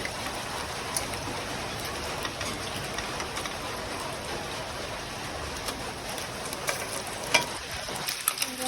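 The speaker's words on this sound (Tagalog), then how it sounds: "umulan na" Steady rain falls in a continuous, even hiss with small scattered drips and taps, unchanging throughout and without any voices.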